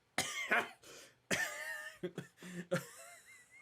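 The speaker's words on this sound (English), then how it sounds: "He's just coughing, wheezing, and begins to cry." Harsh coughing fits, several bursts in a row, with raspy wheezing breaths between them, close and fairly loud.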